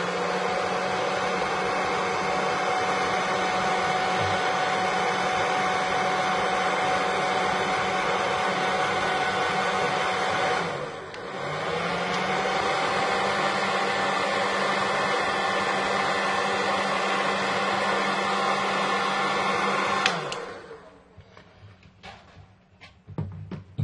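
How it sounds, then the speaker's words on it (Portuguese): A hair dryer blows hot air onto paint for about twenty seconds, a close, loud, steady whirring hiss with a brief dip in the middle, then it switches off and faint handling noises follow. "Eu vou pegar o secador, vou dar um jato de ar quente"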